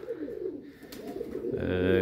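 Pigeons coo softly nearby in low, throaty murmurs in cold winter weather, and a person starts speaking toward the end.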